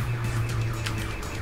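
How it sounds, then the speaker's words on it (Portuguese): An alarm sounds on an ambulance in the Brazilian video game 171. A steady low electronic tone runs throughout, with faint repeating pulses above it, at a constant level and with no talking. "tem até alarme"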